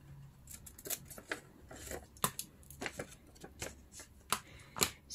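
Scissors snipping through paper notecards at close range, a run of crisp, irregular cuts and paper rustles, fairly quiet with no voices.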